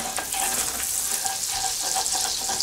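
A pan scraped to loosen browned bits left from frying turkey chops, with steady hot sizzling throughout and faint intermittent scraping strokes mixed into the frying noise.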